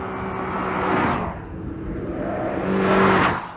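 A Toyota GR Corolla's engine on a race track rises twice in strong revving bursts, the tone climbing and falling as the car accelerates past, loud and close with no voices.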